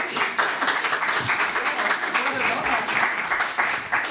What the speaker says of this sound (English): please applaud her